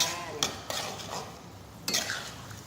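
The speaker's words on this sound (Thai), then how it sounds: "ผัดไปเรื่อยๆจ้า" Canned fish chili paste stir-fried in a pan, a utensil scraping and clinking against the metal in a few brisk strokes over a soft background sizzle.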